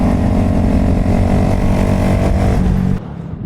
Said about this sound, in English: I'm gonna go full tuck, full throttle,